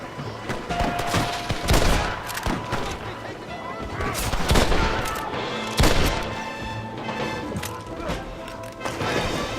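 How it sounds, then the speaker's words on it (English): Enemy gunfire rattles through a Red Dead Redemption shootout, repeated sharp shots and bursts scattered over the stretch with a few louder cracks, while voices shout between them. "They're shooting down!"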